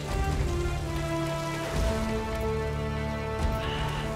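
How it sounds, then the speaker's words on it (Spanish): Rain falling in the Uncharted video game, a constant hiss of drops on surfaces running under sustained game music, with no talking. "La lluvia está guapa, ¿eh?"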